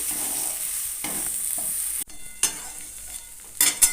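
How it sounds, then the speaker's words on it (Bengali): Steady sizzle of pointed gourd frying with spices over a low gas flame, a spoon or spatula continuously scraping and stirring through the pan, with a few louder clinks and scrapes toward the end. "এটা ভাজার সময় আপনারা দেখুন আমি কিন্তু কন্টিনিউয়াসলি নাড়তে থাকছি"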